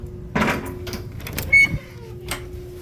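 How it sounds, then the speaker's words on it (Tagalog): A school door is opened, with nearby clunks, a rattling latch, a short squeak and a final knock, each sharp and close. "Buksan natin ang pinto."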